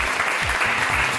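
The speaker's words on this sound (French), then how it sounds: "On les applaudit très très fort" Audience applause for contestants on a French TV talent show, a short burst of dense studio clapping with a little low background noise.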